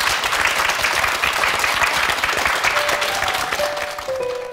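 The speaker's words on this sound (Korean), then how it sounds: "큰 박수로 응원해드리겠습니다." Sustained applause from a studio audience on a Korean morning talk show, honoring four firefighters; dense, steady clapping that fills the whole stretch, with faint tonal sounds near the end.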